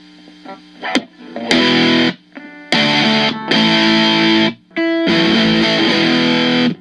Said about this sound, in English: Then these also have a distortion gain channel too.